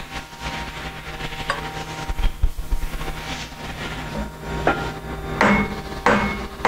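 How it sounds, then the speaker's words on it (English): Several sharp metallic taps on the top of a clamshell machine during setup, irregular knocks spaced a second or so apart over a low mechanical background hum. "tap the top of the machine."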